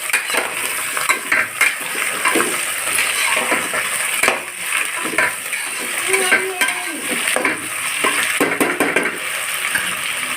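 Carrot, potato, beans and capsicum frying in a pan for veg biryani, a steady hiss with frequent metal clinks and scraping of a spoon against the pan, continuous and fairly close.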